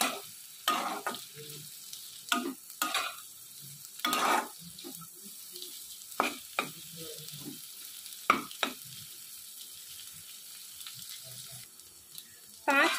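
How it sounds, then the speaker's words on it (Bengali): Beans, carrot and capsicum being stirred in a pan over a high flame for chicken chow mein, with a low sizzle under repeated sharp scraping strokes of a spatula at irregular intervals, close by. "আমি বিন, গাজর, ক্যাপসিকামটা পুরো দিয়ে দেবো। দিয়ে আমি নাড়বো"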